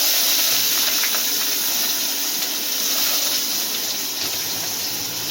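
Chopped onions sauté in a pan of oil for a bottle gourd and pea kara kuzhambu, giving off a loud, steady steamy hiss that runs unbroken throughout.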